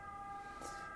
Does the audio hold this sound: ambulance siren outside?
yes